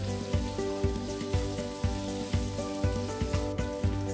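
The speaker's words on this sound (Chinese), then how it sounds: "下五花肉，小火翻炒" Pork belly stir-fries over low heat in hot oil with Sichuan peppercorns, a soft sizzle running under a regular pulsing beat, likely background music, with no voices.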